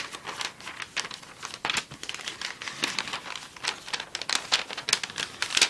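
A sheet of paper being folded into a paper airplane makes close crinkling and rustling, an uneven run of soft crackles and scrapes with no voices.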